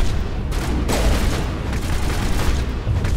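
Sustained gunfire in the Mass Effect video game, a dense, loud run of rapid shots and booming impacts with no pause, heavy and continuous throughout.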